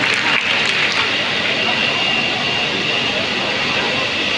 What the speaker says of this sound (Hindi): एक बार जोरदार तालियां बजा करके हम उनसे आग्रह करते हैं